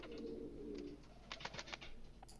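A pigeon's soft cooing plays as a ringtone, a low warbling coo at first followed by a few quieter, brief rustling taps, all faint and distant-sounding.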